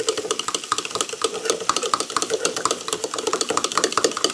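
Breakfast ingredients being mixed by hand in a bowl, with rapid rhythmic clicking and tapping strokes of a utensil against the bowl, close and continuous, no speech.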